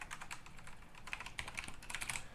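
Steady typing on a computer keyboard, a continuous stream of soft, close key clicks at moderate volume with no voices over it.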